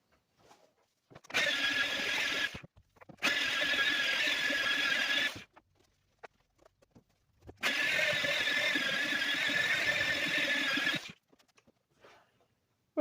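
A polisher works an old foam pad over the rough paint of a 1984 Ford Mustang SVO, making a loud whining, squealing drone in three long bursts with short pauses between.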